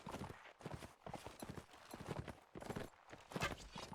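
Horse hooves clip-clop steadily in a video game match, a busy run of hoofbeats from several horses under faint background sound.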